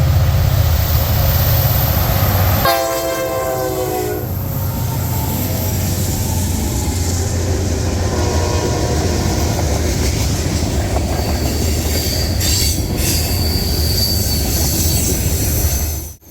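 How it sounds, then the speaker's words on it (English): A CSX SD70MAC locomotive rolls past with loud, sustained rumble of railcars and high, piercing wheel squeal rising for a couple of seconds, then steady clattering rail noise continuing close by until the end. "another modern day CSX locomotive. This one is an SD70 Mac."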